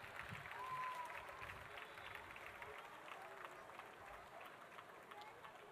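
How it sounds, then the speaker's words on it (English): Very faint, steady applause from an audience at a primary school annual day prize distribution, a continuous wash of distant clapping with a brief tone and murmur mixed in. "Audience, please give them a big round of applause"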